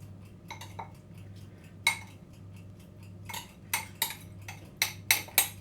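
A metal spoon clinks and scrapes against a pan while sauce and shallots are spooned over roasting beef steaks, with sparse then quicker taps over a low steady hum.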